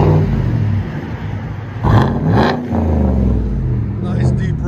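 A 2016 GMC Sierra Denali with a 6.2L V8 and straight-piped dual exhaust revs hard, a deep rumbling engine note swelling in two quick blips over a loud, steady idle, with a voice briefly over it.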